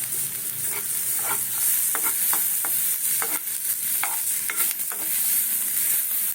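Boiled peas stirred in a frying pan, a steady bright sizzle with repeated scraping knocks of a spatula against the pan throughout.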